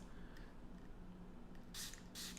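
A spray bottle mists the soil of a freshly repotted aloe plant in a screw-off pot with drainage holes, giving two short airy hisses close by over a low background hum.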